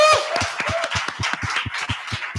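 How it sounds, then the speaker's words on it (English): A crowd claps together at a graduation party for an incubator program, a fast, fairly even run of claps lasting a couple of seconds with no voices on top. "let's close the live streaming with a huge round of applause for everyone that was here tonight"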